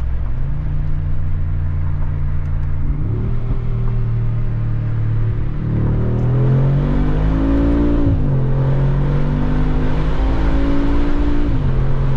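A 2020 Mercedes G63 engine revs hard several times through side exhausts, its deep exhaust note climbing and falling in loud surges with no talking.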